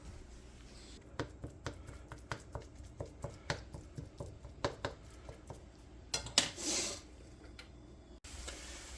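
Ground chicken cooking in a pan sprayed with Pam over medium heat, heard as a quiet, regular series of spatula taps and clinks against the pan, ending in a short scraping rush.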